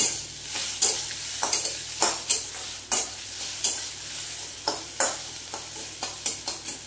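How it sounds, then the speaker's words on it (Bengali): Food fries on a high flame with spices as a spoon scrapes and stirs the pan in a regular rhythm of sharp strokes over a steady sizzle, close and moderately loud. "ফ্লেমটা হাই দিয়ে আমি এটাকে ভেজে নিলাম, মানে কষে নিলাম মশলার সঙ্গে"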